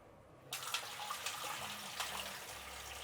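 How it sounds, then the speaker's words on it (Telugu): Soaked grains for a Karnataka-style festive offering powder being rinsed twice and topped up with water, a steady close splashing and running-water wash that starts abruptly and continues throughout with no talk. "ఇలా ఒక 2 సార్లు కడిగేసి నీళ్ళు పోసి పక్కన పెట్టేద్దాము"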